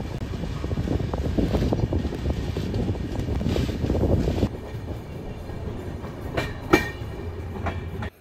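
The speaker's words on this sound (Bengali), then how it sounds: "তারপর ট্রেন বেরিয়ে যাবে দুর্গাপুরের উদ্দেশ্যে" Sampark Kranti Express travelling from Kolkata toward Durgapur, heard as a loud continuous rumble with rapid clickety-clack of wheels over rail joints, then easing to a quieter rolling hum with a few squeals and knocks.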